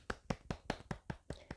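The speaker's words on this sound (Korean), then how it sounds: "박수!" Clapping from a single person: seven or eight sharp, evenly spaced claps in a quick, steady rhythm, faint and close, with no talking.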